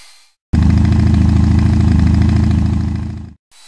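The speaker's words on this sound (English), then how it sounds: "Let me dry this real quick. And if I can find my hairdryer." A hair dryer switched on for about three seconds, a loud, steady close whirring blow that cuts off abruptly, with no talking.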